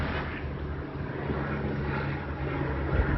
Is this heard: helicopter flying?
yes